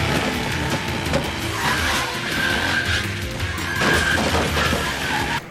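Movie action scene of a biker gang crashing through a window: tire squeals, engine roar and smashing crash noises pile up densely, loud and chaotic throughout with a brief screech repeating.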